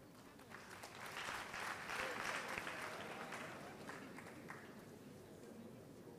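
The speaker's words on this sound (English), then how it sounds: "Let's applaud Mr. Kofi Bedu." An audience at a graduate school graduation congregation applauds, a broad wash of clapping that swells, peaks and slowly fades, heard from a distance.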